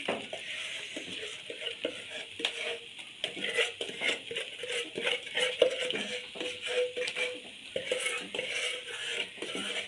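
Sugar syrup is stirred into a thickened, milk-reduced carrot barfi mixture in a pan, giving repeated close scraping and clinking strokes of a spoon over a faint bubbling sizzle.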